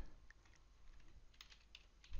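Quiet, scattered clicks of keys being typed on a computer keyboard, a few taps at a time with short pauses, fairly close.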